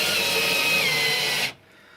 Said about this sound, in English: So when you're drilling these in, screwing these in as they say